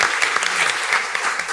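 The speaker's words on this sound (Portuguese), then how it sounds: "Vamos bater palmas de novo," An audience at a live business talk show taping claps together, a dense, steady burst of applause filling the room for a brief moment.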